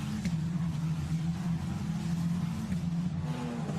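Hugo de Wilde's Arden Formula Renault Eurocup car racing at Imola, a loud, close engine buzz holding a steady pitch with small rises and falls through gear and throttle changes, no voices over it.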